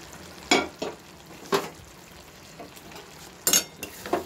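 Fried onions being stirred into chicken in a pan for chicken do pyaza, heard as a soft sizzle under a few sharp, spaced scrapes and clinks of the spoon against the pan.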